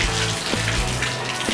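Water gushing from a newly installed water pump, a steady close splashing rush with a few soft knocks.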